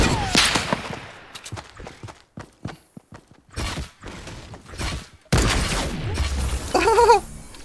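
Fortnite gunfire on iPhone, a string of sharp irregular shot bursts and clattering impacts with brief gaps between them, loud and close, ending in a denser busy stretch with some game effects.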